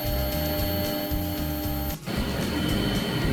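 A CNC machine mills away thick material with a loud, steady mechanical drone and a repeating pulsing pattern, broken by one brief dip before the same rhythmic grinding continues.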